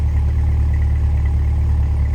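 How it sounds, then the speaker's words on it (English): A red 2023 Chevrolet Corvette C8 convertible 2LT idles nearby, its exhaust a steady, even low rumble holding without change. "listen to that exhaust at idle"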